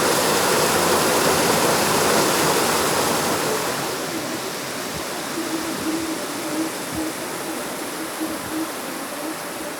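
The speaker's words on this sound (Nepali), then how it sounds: "सिँचाइ मन्त्री राजेन्द्र लिङ्गदेनले बिहिबार बाँध क्षेत्रको अवलोकन गरेर पानी बागमती क्षेत्रमा बगाएका छन्।" Water released from a dam rushes into the Bagmati river, a loud, steady roar of torrent that eases slightly partway through and holds on without pause.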